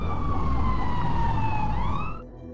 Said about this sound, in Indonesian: suara sirine polisi terdengar